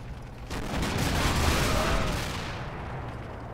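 Sustained gunfire pummels a Soviet T-34 tank in the Combat Mission: Red Thunder wargame, a dense rolling fusillade of shots and booms that swells and fades over a few seconds, with no speech.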